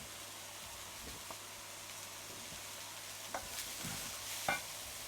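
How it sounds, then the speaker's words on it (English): Quiet, steady sizzling of food in a pan with soft hiss throughout and a few faint clicks and scrapes. "We've got a bit of sizzle going."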